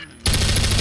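A sudden loud burst of automatic gunfire in Half-Life 2 RTX erupts after a moment of quiet and keeps rattling densely to the end.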